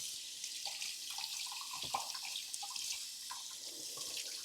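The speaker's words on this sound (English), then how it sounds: "Let me rinse my hands off." A kitchen tap running steadily while hands are rinsed under it, faint and continuous with small splashing changes as the water hits the hands and sink.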